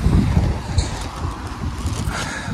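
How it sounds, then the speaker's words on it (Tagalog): Strong wind gusting against the microphone outdoors, a loud buffeting roar that swells and dips in uneven gusts, heard alone with no speech. "Lakas pa rin ang hangin."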